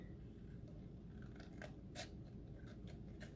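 Scissors snipping through a paper plate to cut out a fish shape, quiet close crisp cuts arriving in a few separate bursts with no talk.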